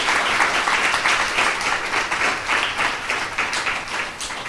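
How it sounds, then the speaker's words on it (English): An audience at a coalition meeting against human trafficking claps in sustained, dense applause, loud and even throughout with no voices on top. "Everybody gets another big round of applause."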